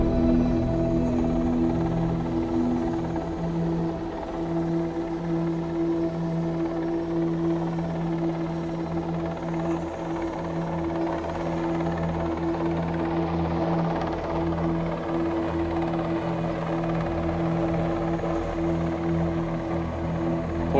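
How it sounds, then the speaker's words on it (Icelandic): A rescue helicopter hovers over a rescue ship during a training exercise at sea off Sandgerði, its steady rotor drone and engine hum loud and continuous throughout, with no speech. "Og hér sjáum við síðan þyrluna þar sem hún kemur að björgunarskipinu"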